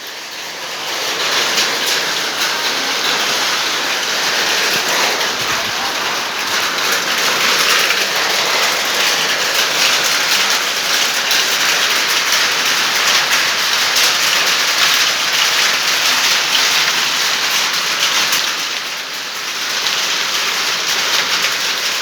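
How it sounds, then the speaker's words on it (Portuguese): Rain falls steadily on a surface, a dense, even hiss of countless drops that holds for the whole stretch with only a slight dip near the end, no voices. "As gotas de chuva caem no chão"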